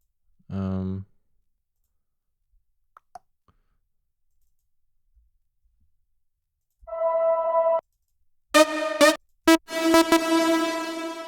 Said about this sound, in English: let's quickly play around with a lead sound.